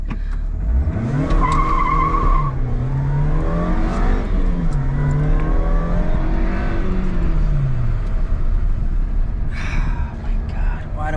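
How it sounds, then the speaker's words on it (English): A supercharged, front-wheel-drive, four-cylinder Subaru Vivio RX-R kei car accelerates hard, its engine note and supercharger whine climbing repeatedly through the gears, loud and close from inside the cabin. "That came from a Kei car. A front-wheel drive, supercharged, 4-cylinder, beautiful Subaru Vivio."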